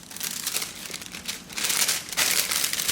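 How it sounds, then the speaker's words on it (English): Body butter is wrapped in plastic wrap, bringing loud, close crinkling and rustling that comes in bursts and grows denser toward the end, with no talking. "We're going to put the butter inside of this plastic wrap."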